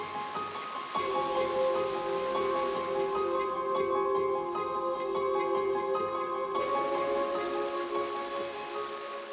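Rain falling in Ubud on Bali, a steady moderate hiss of drops that stays even throughout, with a faint tonal hum running underneath.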